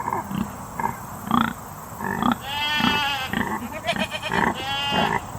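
A goat bleats loudly several times, the wavering cries close by, mixed with shorter grunting calls and occasional bleats from other animals.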